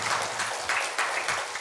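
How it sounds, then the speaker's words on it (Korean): A church congregation claps in praise during a Korean Sunday worship service, a dense, steady patter of many hands close by that swells in bursts over a short stretch with no voices on top. "하나님께 영광의 박수 드리겠습니다."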